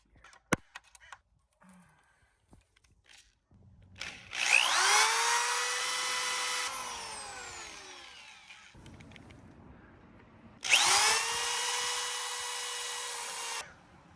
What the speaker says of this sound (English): the first thing we have to do is drill the little screw holes for our bolts